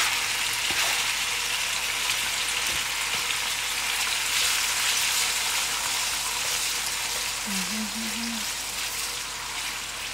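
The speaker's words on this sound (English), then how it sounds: "So we're gonna add our sliced beef." Sliced beef frying in a hot pan for Tibetan beef chowmein, a steady close sizzle throughout with a brief voice sounding over it.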